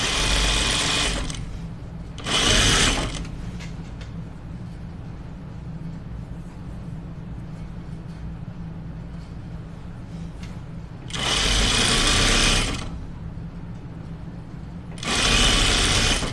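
A sewing machine stitches the angled side seams of a dress in several steady runs, loud and close, with quieter pauses between bursts and a low constant hum underneath.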